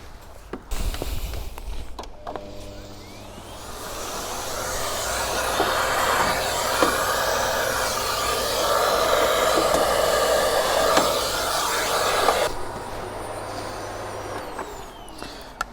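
A vacuum cleaner draws dust from the belt wear area of a home treadmill, a steady whooshing suction running for about ten seconds after a few clunks and handling knocks, fairly close, with no talking.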